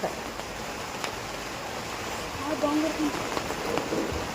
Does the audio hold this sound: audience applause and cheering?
no